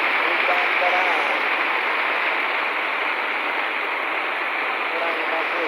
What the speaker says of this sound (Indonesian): cuaca sekarang hujan deras,